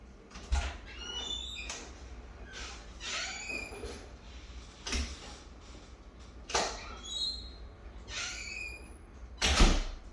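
A door opens and closes during a dog training session at home, with a few distinct knocks and latch sounds spread over ten seconds amid quiet room noise.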